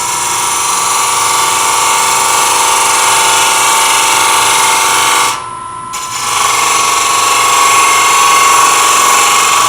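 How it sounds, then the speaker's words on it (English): A bowl gouge cuts a tenon on a small lidded nesting-box blank spinning on a wood lathe, giving a steady, loud whirring scrape that drops away briefly midway and then resumes. "And now I'm going to cut that tenon. Use my bowl gouge a little bit to create its length."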